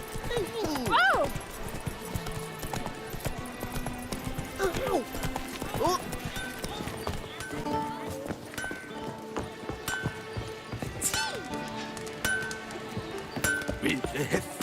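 Roach, the horse in the Witcher 3 game, gallops along with quick rhythmic hoofbeats and occasional whinnies, mixed with game music and sound effects while someone talks over it.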